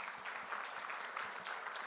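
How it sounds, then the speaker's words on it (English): Applause greets the TI Global Chairman at the TiECon Surat 2022 event, a steady, fairly faint wash of audience clapping lasting just under two seconds. "A big round of applause for him."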